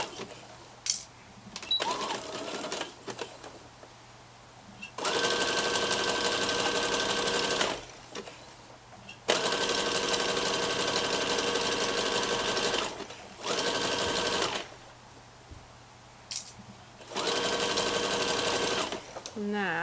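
A sewing machine stitches the seams of a pair of child's elasticated-waist shorts in several loud bursts of steady whirring, separated by short quiet pauses.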